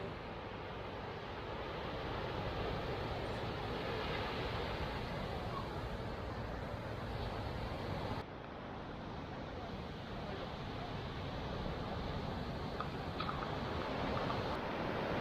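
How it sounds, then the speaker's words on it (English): Ocean waves of the South China Sea lapping onto a white sand beach at An Bang in central Vietnam, a steady close wash of surf with wind rumble, continuous for the whole stretch. "listening to the sound of these waves lapping up against this white sand beach"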